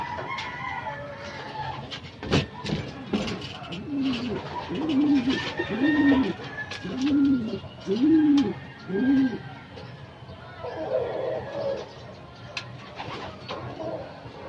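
Racing pigeons coo in a steady run of soft, rounded calls, about five repeated coos close by over a low outdoor background with other faint bird sounds.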